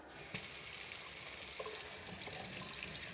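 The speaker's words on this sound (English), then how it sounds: "I'm going to turn my tap on." Kitchen water tap running steadily into a sink, a constant broadband rush that holds alone from just after the start to the end.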